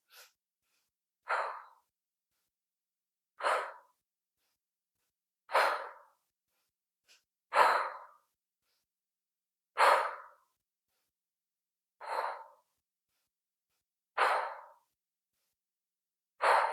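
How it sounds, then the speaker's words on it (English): Deep breathwork exhales during a yin yoga session: eight forceful, sighing out-breaths spaced about two seconds apart, close and loud, with near silence between them. "Breathing even more now as you inhale, taking as much air as you can in, really releasing on those exhales."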